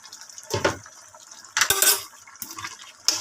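Squash and bitter gourd stirred in a cooking pot, heard as wet, clattering scrapes of a utensil against the pot in three or four separate bursts, close by with quiet gaps between.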